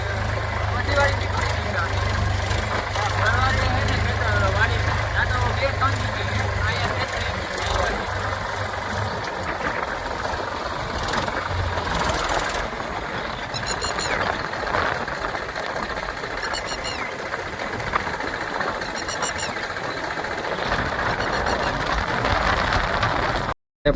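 A farm tractor engine idles and chugs at moderate distance, a steady low diesel drone that runs continuously under scattered voices and ambient outdoor noise.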